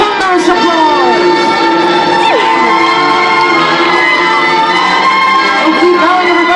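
Audience at a children's theater show cheering, whooping and shouting continuously at close range as performers take a bow, with children's voices prominent in the dense crowd noise.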